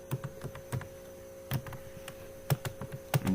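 Keys on a computer keyboard tap out short clusters of clicks at a moderate pace, close and fairly quiet over a low steady mains hum, with no voices.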